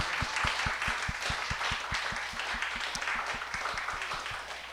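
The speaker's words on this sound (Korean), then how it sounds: "크게 우리 박수 치면서 하나님께 영광 올려드리겠습니다" A church congregation claps loudly together during Sunday worship, a dense, continuous wash of many hands with a steady, roughly even beat running through it, with no voices on top.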